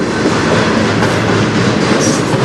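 A train rolls past on the Strathroy Subdivision, loud and close, its wheels beating a steady clickety-clack over the rails with a continuous rumble.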